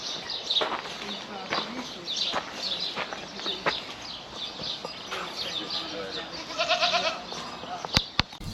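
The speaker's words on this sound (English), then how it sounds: "Goats," Goats bleat in short repeated calls in an outdoor animal enclosure at the Gardens of Alfabia in Mallorca, with birds chirping and people talking nearby.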